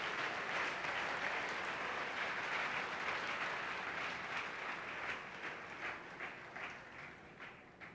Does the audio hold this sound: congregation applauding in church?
yes